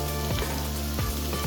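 Turmeric sizzles and fries in a hot pan with a dense, steady hiss that runs through the whole moment, with no talk over it.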